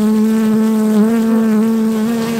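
Bees buzz steadily and loudly close by, a sustained droning hum with slight wavering pitch.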